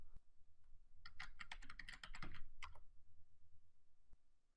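A username is typed on a computer keyboard: a quick, faint run of close key clicks over a couple of seconds, with a few isolated taps before and after.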